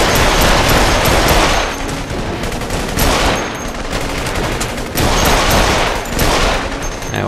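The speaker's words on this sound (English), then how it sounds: "someone's firing from the side" Sustained gunfire from the video game The Saboteur, dense rapid bursts of shots layered into a continuous loud fusillade, with brief dips between volleys and no talking.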